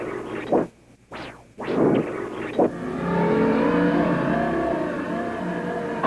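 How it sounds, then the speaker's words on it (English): A motorcycle engine revs in a few sharp bursts, then settles into a sustained, loud roar. "In creating the cycle sound in the Suzuki commercial"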